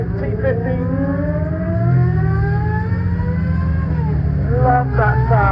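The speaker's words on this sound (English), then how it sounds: "Here goes the fan car by T50." Gordon Murray T50 fan car driving past at a hypercar festival, a loud high-pitched engine note sweeping upward as it accelerates, with crowd noise in the background.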